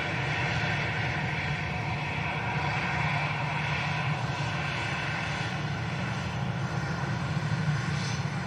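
A jet aircraft departing Manchester Airport for Paris Beauvais gives a continuous, moderately loud engine roar that holds steady from start to finish, with no talking.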